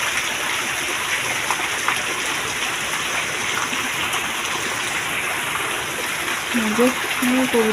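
Midday rain comes down as a steady rushing hiss outside a home kitchen, continuous throughout, with a person starting to talk over it near the end.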